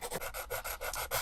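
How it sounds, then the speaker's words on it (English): A foam-edged sanding stick rubs back and forth on a small die-cast Matchbox 1983 Porsche 935 body, making close, rhythmic raspy strokes, about seven in quick succession, with no voices. "But I'll start with using these little sanding sticks, and these are really good."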